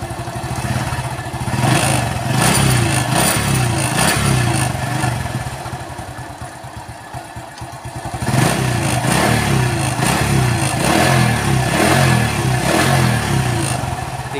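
Honda Astrea Grand motorcycle fitted with a Shogun CDI, its small engine running nearby with a busy clattering idle, dipping briefly quieter mid-clip before picking back up and revving steadily again.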